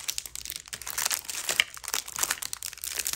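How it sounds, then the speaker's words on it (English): Plastic packaging around diamond painting supplies crinkles up close, a busy, continuous crackling rustle with sharper bursts as it is handled, without talk. "Sorry for crinkling."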